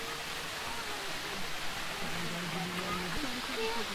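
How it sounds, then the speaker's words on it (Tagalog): A waterfall at a campsite in Nueva Vizcaya, running strong in the rainy season, produces a steady, dense rushing roar, with faint voices under it. "Nandito na kami sa waterfalls."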